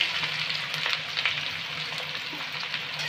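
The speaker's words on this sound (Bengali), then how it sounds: "পেঁয়াজটা আমরা এবারে ভেজে নেব।" Chopped medium onions frying in mustard oil, a steady close crackling sizzle with faint stirring scrapes throughout.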